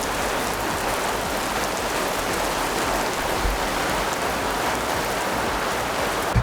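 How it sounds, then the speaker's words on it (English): Steady rain falls outside, a dense even hiss of drops on surfaces that holds at a constant level throughout, close and unbroken with no voices. "Look at that rain."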